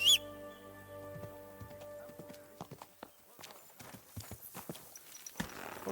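Hooves clip-clop in a steady trotting rhythm in Kingdom Come: Deliverance II, close and clear, after a brief tone at the start, with no one speaking.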